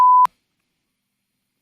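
A single short censor beep, a steady pure tone lasting about a quarter second, ends abruptly, followed by near silence.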